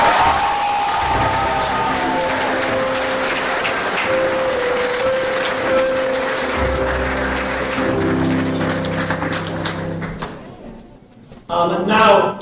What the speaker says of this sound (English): I'd like a round of applause, please, boys and girls, to the parents in the room.